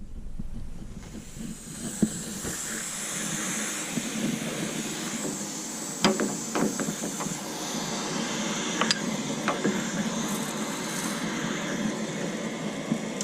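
Water draining from a Giant water heater tank through a hose gives a continuous hissing rush, steady and moderately faint, with a few small clicks and no talk.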